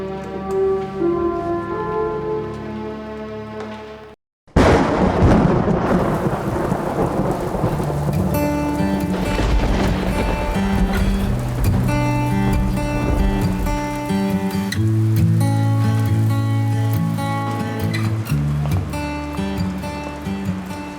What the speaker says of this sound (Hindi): रिलैक्स गाइस, बारिश ही तो है।